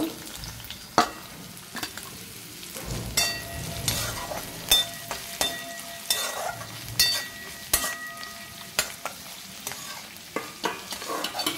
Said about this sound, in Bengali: আমি কড়াইতে তেল দিয়ে দিয়েছি, আর তেলটা গরম হয়ে গেছে। আমি এখানে পেঁয়াজ দিয়ে দেব।